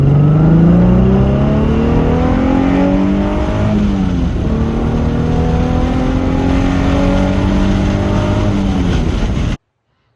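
A Nissan 350Z with a new differential accelerates hard through second and third gear on a canyon road, the loud engine climbing in pitch, dropping at the shift, then climbing again before the sound cuts off abruptly.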